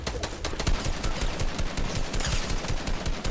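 Rapid automatic gunfire from Fortnite, a fast rattling volley of shots fired close and loud with no break for about three seconds.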